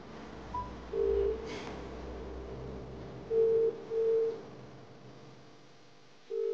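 Telephone being dialed at home, several short electronic keypad tones in an uneven sequence over quiet background hum, no speech.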